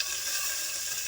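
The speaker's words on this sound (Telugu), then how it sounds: "బాగా ఫ్రై అవనివ్వాలి." Onion, green chili and curry leaves sizzle steadily in hot oil for a baby corn curry, a dense continuous hiss with no talk over it.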